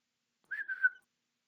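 A person whistles into a microphone, a single short, clean whistled note about half a second long that wavers slightly in pitch, close and alone against silence.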